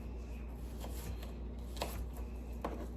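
A knife slices across food on a cutting board with a few soft, separate chopping taps, close and quiet with gaps between cuts.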